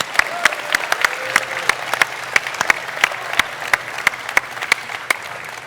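A small audience at a stage presentation of a Hitman game claps in scattered, sparse applause, individual hand claps distinct and moderately loud over a quiet room.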